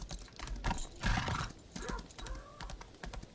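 Horse hooves clip-clopping and a whinny from a mounted horse doing a jumping dash in the video game Lost Ark, with several hoof beats and a brief neigh in the middle over game background sound.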